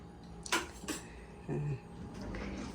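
A metal ladle knocks against cookware in a home kitchen while a vegetable and squid dish is prepared: a few sharp, close clinks and clatters in quick succession, then a brief scrape against low background noise.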